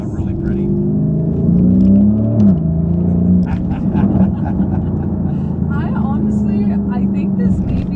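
Lamborghini Urus SE engine note, a steady low rumble with a brief rising rev near the start, running continuously beneath people talking.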